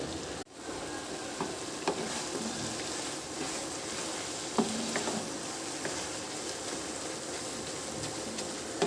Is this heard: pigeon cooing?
no